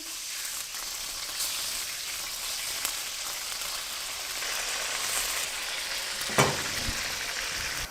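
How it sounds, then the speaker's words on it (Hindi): Chicken pieces frying in hot oil in a kadai, giving a steady close crackle and sizzle, with a single louder clink of a utensil near the end. "ऑयल गर्म हो गया, अब हम इसमें चिकन शामिल करेंगे।"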